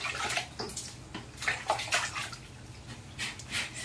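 Children splash in bath water, producing continuous close sloshing and slapping with irregular bursts of louder splashes.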